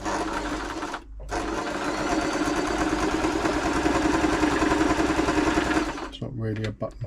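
A Brother LS 2125 sewing machine stitching a buttonhole, a fast steady mechanical whirr with rapid needle clatter running for about five seconds, then stopping briefly amid light handling sounds.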